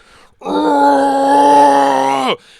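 A human voice imitates a creature's roar as one sustained, loud, groaning bellow lasting about two seconds, then cutting off abruptly.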